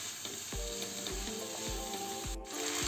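Turmeric powder and vegetables frying in a kadai, a continuous bright sizzle with regular rhythmic scrapes of a spatula stirring roughly every half second.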